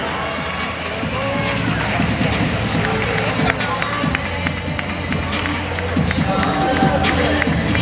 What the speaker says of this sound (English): how about a nice round of applause for the Deuce, Danielle Clark